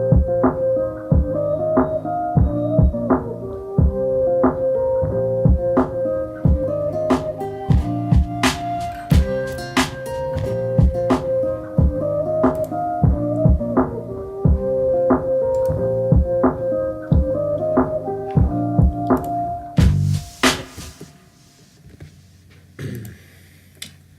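A chill guitar beat hook produced in FL Studio: plucked, guitar-like melodic notes ride over a steady pattern of ticking percussion, looping evenly before a brief noisy burst near the end and a quieter tail.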